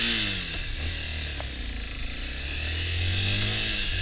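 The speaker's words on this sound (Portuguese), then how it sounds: "a XJ6 é uma moto espetacular" A Yamaha XJ6 600 motorcycle engine drones nearby, its pitch slowly rising and falling as the throttle is worked, with steady wind noise and no speech.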